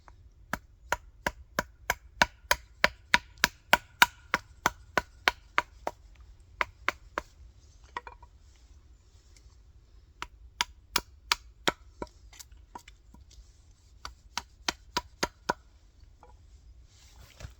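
Axe chopping wood in a forest to rough out a small pocket spoon: crisp, sharp strikes in a quick steady rhythm, a pause, then further short bursts of blows, close and clear with no talk.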